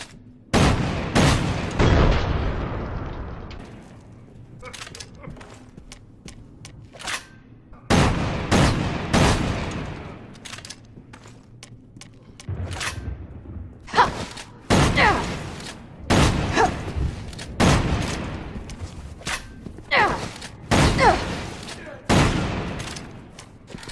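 Hydra shotgun in the game Resident Evil 6 fires in repeated loud, sharp blasts spaced a few seconds apart, some in quick pairs, with occasional reload clicks and someone talking between shots.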